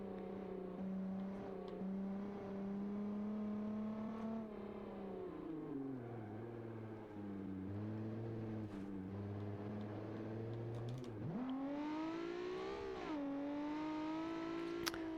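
A home-built racecar in a video game drives fast, its engine droning loud and steady with the pitch dipping and rising again as it shifts and accelerates, alone without talk.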